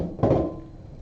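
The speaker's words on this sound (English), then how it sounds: "I'm going to carefully pour the chicken stock in the hot pan" Chicken stock poured into a hot pan while making rice pilaf gives a short, loud splashing sizzle that flares up suddenly and then fades into a low, soft hiss over about a second.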